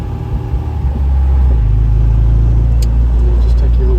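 A 1977 MG MGB Roadster petrol engine with manual gearbox idles smoothly at a junction just under 1,000 rpm, a steady close low rumble that swells slightly stronger after the first second.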